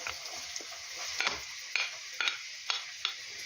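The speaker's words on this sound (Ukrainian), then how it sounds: "Цибуля тільки трішки смажиться" Chopped onion frying in oil in a skillet as the start of stewed cabbage, a constant sizzle broken by several sharp scrapes and knocks of a utensil stirring against the pan.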